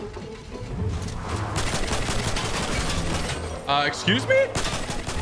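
Gunfire from players in Fortnite crackles through a dense, continuous game mix, with a voice briefly speaking near the end.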